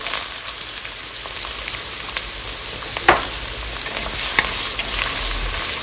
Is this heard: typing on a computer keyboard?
no